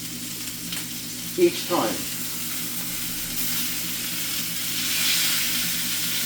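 Batches of pork tenderloin sizzling steadily in a pan, a loud continuous fry with a couple of clanks early on, while a voice speaks briefly over it.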